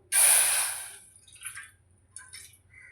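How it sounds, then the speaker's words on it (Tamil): Water is poured from a tap into a cooking pot on a stove, a loud splashing burst that fades into a few small drips and trickles nearby. "ஒரு பாத்திரத்தை வச்சு தண்ணி ஊற்றிக்கலாம்"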